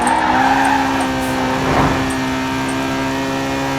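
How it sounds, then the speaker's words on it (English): A car in Forza Horizon 4 races with a steady engine drone and tire squeal, then a brief burst of impact noise as it hits a BMW head-on, after which the engine hum carries on alone. "Yep, that's going right head on into the BMW."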